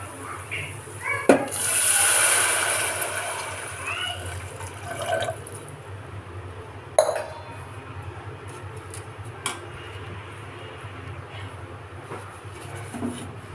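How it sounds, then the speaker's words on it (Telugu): Water pours briefly into a pressure cooker with raw toor dal near the start, followed by quieter splashes and a few sharp clanks of metal; no speech. "ఇప్పుడు వాటర్ వేసుకుందాం."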